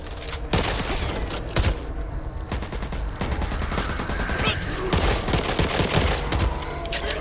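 Loud, rapid gunfire rips through a Back 4 Blood zombie fight, with repeated close bursts and volleys sounding almost nonstop.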